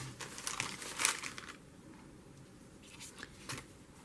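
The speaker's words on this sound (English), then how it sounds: "Uh-oh, pages are ripping." Journal pages tearing loose from a glue book, a few short crinkly rips and paper crackles close up, fading to quiet rustling before a last brief tear.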